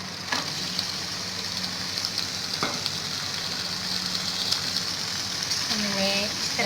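Julienne-cut chicken fries in melted butter with a steady close sizzle and crackle, a few utensil clinks, and a voice speaking briefly over it.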